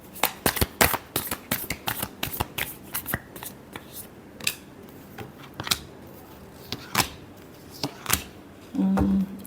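Tarot cards being shuffled by hand close up, a rapid run of crisp riffling snaps and flicks in uneven bursts, then a short low hum near the end, with no talking.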